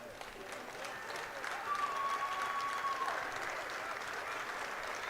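Teammates clap as an injured player leaves the field during a Tampa vs. Charlotte match, a steady wash of applause with crowd murmur throughout and a faint whistle-like tone in the middle.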